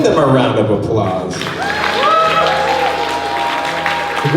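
Wedding reception guests break into a loud burst of applause at the start, then the clapping fades under music and room noise.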